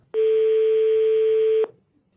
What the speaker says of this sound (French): Vous voulez que je la rappelle, Laurent?